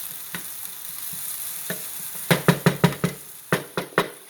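Onions sautéing in olive oil in a pan, a soft sizzle running underneath a string of sharp utensil knocks and scrapes against the pan in the second half.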